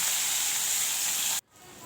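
Pieces of large rohu fish fry in hot oil in a pan, a loud dense hiss and sizzle that cuts off abruptly, then resumes more softly.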